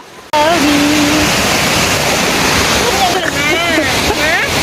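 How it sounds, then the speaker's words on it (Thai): A loud, steady rush of falling water roars close by at Mae Sa Waterfall, with occasional voices faintly heard over the constant torrent. "ใช่ที่มันน้ำตกไหลลง"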